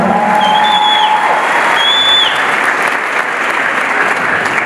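Sustained, loud crowd applause at a Christian wedding ceremony, right after the groom's vows: dense, continuous clapping from many guests, with a few high whistle-like cries rising above it.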